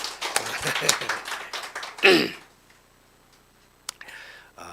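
A church congregation at a Sunday service gives a short burst of applause, with quick overlapping claps that swell and then fade within about two seconds. Louder taps and a lone later clap follow against quiet room tone.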